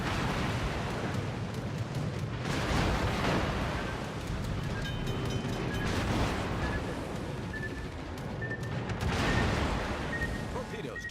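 Heavy booming blasts of a warship's main battery guns firing a volley in World of Warships, rolling low rumbles at a few points amid constant sea noise and game tones, fairly distant-sounding.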